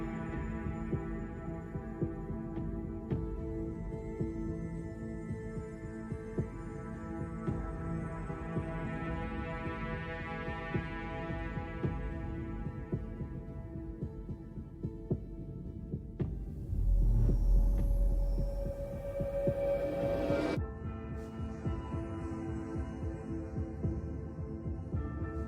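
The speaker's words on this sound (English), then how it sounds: "Nice little heartbeat in the background of it as well" A soft, throbbing heartbeat effect pulses steadily under a presentation's ambient soundtrack, low and continuous, with a brief louder swell near the end and no one talking.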